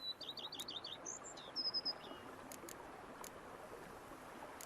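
Birds chirp and tweet in quick bursts of high calls within The Witcher 3 video game, set over a steady outdoor ambience with faint water-like background noise and no talking.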